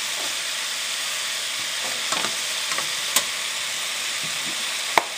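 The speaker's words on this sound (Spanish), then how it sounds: "A la tocineta le incorporamos la carne molida y la vamos a ir moviendo" Ground beef and bacon fry together in a pan for Venezuelan pasticho, giving a steady bright sizzle. A utensil stirring the meat adds a few scraping knocks and one sharp clack near the end.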